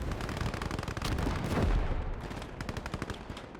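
Heavy gunfire from a German E-100 super-heavy tank in the World War II strategy game Gates of Hell, with dense rapid bursts rattling loud and close for several seconds amid a booming battlefield rumble.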